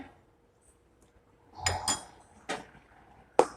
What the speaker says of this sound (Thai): แล้วก็จะคนส่วนผสมค่ะ ให้ละลายเข้ากันค่ะ